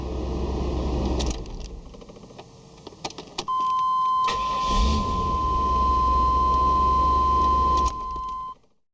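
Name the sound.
Chevy/GMC OBS truck engine starting after wiring fix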